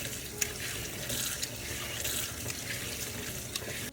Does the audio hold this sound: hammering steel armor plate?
no